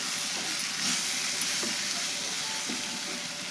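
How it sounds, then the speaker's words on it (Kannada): Cabbage palya stir-fried in hot oil gives a soft, continuous sizzle, with a few light spoon scrapes as the mixture is stirred, close but fairly quiet. "ಇದನ್ನು ಮತ್ತೊಮ್ಮೆ ಎಲ್ಲ ಮಿಕ್ಸ್ ಮಾಡಿ"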